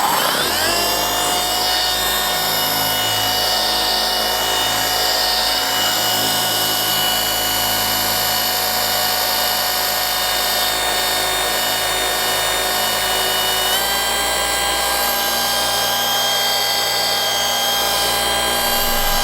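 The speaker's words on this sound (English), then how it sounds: "I'm gonna go very mid-level speed on my polisher here, and we're just gonna remove these sanding marks" A steady, loud mechanical whine of a rotary polisher running continuously at mid-level speed removing sanding marks from car paint, with a constant tonal hum, shifting pitch slightly partway through.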